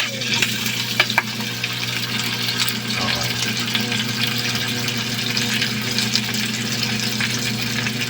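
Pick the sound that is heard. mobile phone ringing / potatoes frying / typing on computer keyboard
potatoes frying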